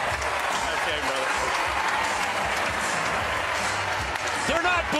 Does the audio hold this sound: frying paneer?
no